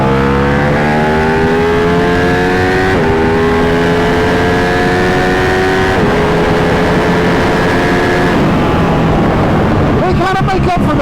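A Ducati superbike engine revs hard while riding, its loud, close roar climbing steadily in pitch through several gear changes, with wind buffeting at the end.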